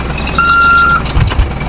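A vehicle in the Roblox video game reverses, sounding a loud, steady electronic beep tone followed by brief low engine rumbles and thumps, close and with no talk.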